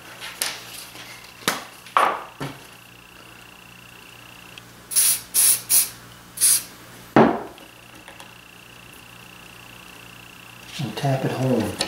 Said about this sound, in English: I'm gonna spray this with the accelerator.